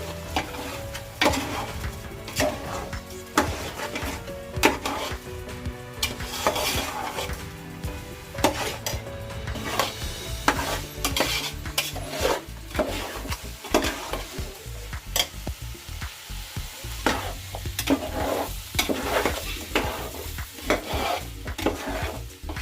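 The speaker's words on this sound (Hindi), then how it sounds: "अब इसमें हमें अपना राइस जो धोकर क्लीन करके रखी हूँ वो ऐड करना है। इसे भी 2 मिनट भूनना है।" Washed rice sizzles and fries in a pan for aloo mutter gobi pulao, with a spoon repeatedly scraping and clinking against the metal in an irregular, close stirring rhythm over a constant frying hiss.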